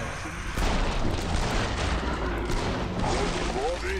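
Rapid continuous gunfire erupts in the zombie shooter Killing Floor 2, a loud, dense burst of shots with a booming low end that lasts about three seconds, with a few faint voice sounds mixed in.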